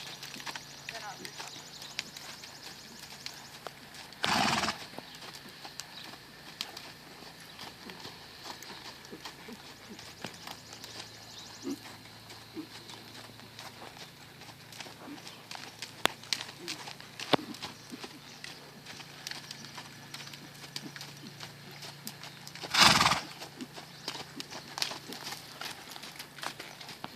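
A two-week-old foal stepping slowly, with soft hoof clip-clops and footfalls at moderate distance over steady background noise, plus two brief louder bursts; no clear neigh stands out.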